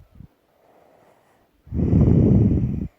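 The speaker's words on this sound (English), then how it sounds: "I don't know if you can hear her snoring." A baby gives a soft breath, then a loud rasping snore from close by, steady for about a second before stopping.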